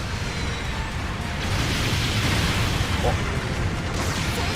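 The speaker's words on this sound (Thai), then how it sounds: "ระเบิดป๊อปคอร์น" Explosions and gunfire rumble through a Gundam Battle Operation 2 mecha battle, a dense continuous roar of blasts and booms with no clear gaps, loud and sustained throughout.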